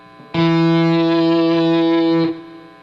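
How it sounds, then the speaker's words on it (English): Overdriven electric guitar sustaining a single buzzing tone that opens abruptly and is cut off just as abruptly after about two seconds as the noise gate shuts, leaving near silence on either side. "You can hear the gate shutting in and off."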